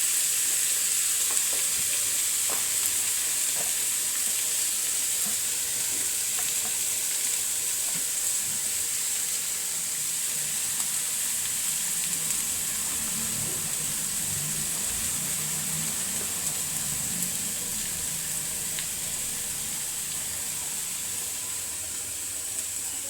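Bitter gourd fries and sizzles in a pan with a constant, close hiss and crackle that holds steady throughout, with occasional faint clinks of stirring.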